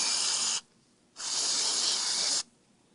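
Two bursts of carburetor cleaner spray hiss onto a Yamaha Zuma scooter carburetor, each steady and close, a short one and then a longer one, separated by a brief silence.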